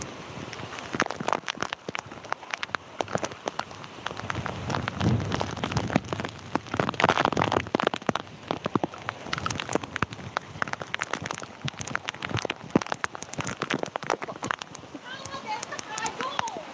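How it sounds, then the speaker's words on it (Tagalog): Steady typhoon rain patters and drums on a surface close by, a dense, continuous wash of drops, with voices talking now and then over it. "Kasi umuulan."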